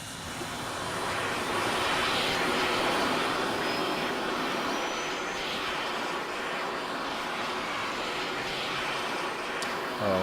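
An F-16 jet flying in a military video game, a broad, steady engine roar with a faint rising whine, even and continuous throughout with no talk.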